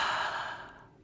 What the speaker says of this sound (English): start that 3-part breath